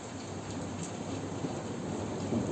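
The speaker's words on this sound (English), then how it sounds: "It's one of my favourite events, natural events, is thunderstorms." A thunderstorm rolling in off Morocco makes a steady wash of heavy rain with a low rumbling undertone throughout, no voices present.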